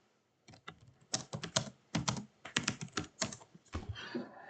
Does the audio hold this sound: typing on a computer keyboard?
yes